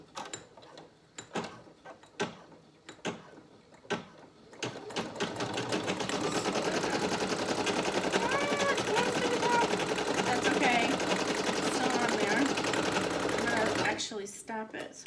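A Brother SE1900 embroidery machine stitches a dog collar with a steady, close mechanical whir and rapid needle clatter after a few sharp clicks and taps at the start, ending in faint handling noise.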